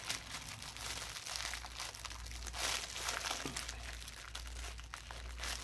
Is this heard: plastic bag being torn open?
yes